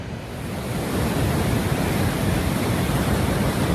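Punchbowl Falls on the Gregg River roars as a dense, steady wash of falling water, loud and close, with no voices.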